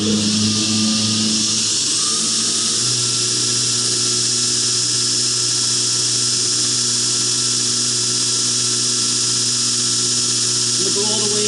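A belt grinder works a full flat grind onto a knife blade, a loud, steady high-pitched whine with a sustained motor drone that runs unbroken for over eleven seconds, pitch shifting slightly as the steel is pressed to the belt.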